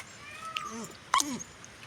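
A pet dog makes a brief high whine or yelp, close by, against a steady noisy background.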